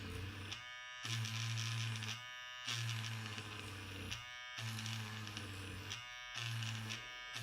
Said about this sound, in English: Now turn your eraser on and just drag it while it's on across the sandpaper.